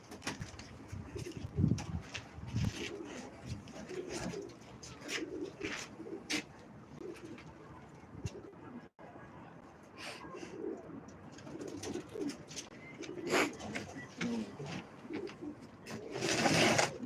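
Tumbler pigeons coo repeatedly at close range, their low soft calls overlapping in an irregular chorus, with occasional sharp bird sounds and wing flutters.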